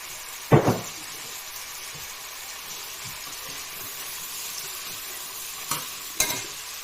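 Small rice noodles with wild garlic stir-fried in tamarind sauce, a steady soft sizzle broken by a few sharp scraping stirs of the utensil near the start and again toward the end.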